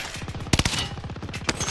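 Rapid gunfire in a video game crackles in a dense, close burst of quick shots with a couple of louder cracks standing out.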